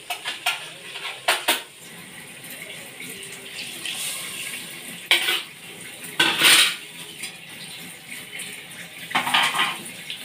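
Chicken broth stirred into a pot of creamy sopas, with scattered clinks and scrapes of a utensil against the pot and light liquid sloshing, in soft irregular bursts.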